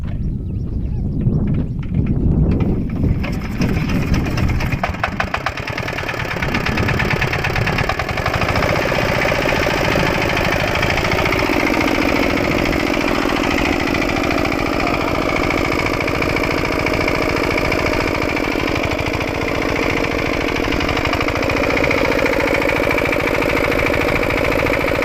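A small power weeder cultivator's engine running in a farm field, a steady mid-pitched putter with a busier, knocking start before settling into an even idle-like drone, close and loud throughout.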